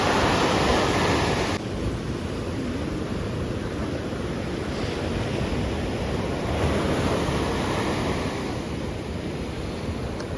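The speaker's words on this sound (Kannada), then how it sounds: "ಈ ಅಲೆಗಳ ಶಬ್ದ ಕೇಳಿದ್ರೆ ಏನೋ ಒಂಥರ ಕಾಮ್ ಸೂದಿಂಗ್ ಅನ್ಸುತ್ತಲ್ಲ" Ocean surf rolling onto Serenity Beach in Pondicherry, a steady broadband wash of breaking waves with gusts of wind buffeting the microphone, continuous and fairly loud with no voices.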